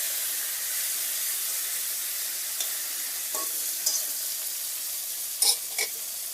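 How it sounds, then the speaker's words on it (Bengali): Green chillies and chopped tomato drop into hot tempering oil for chana dal, a constant high sizzle with a few sharp spatters and stirring clicks toward the end. "এবার যাবে কাঁচা লঙ্কা আর টমেটো, যেটা কুচি করে কাটা ছিল,"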